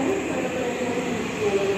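A Kahuripan economy passenger train standing at a station, heard as a steady low rumble and hum of the waiting train with faint squeaks, close and continuous.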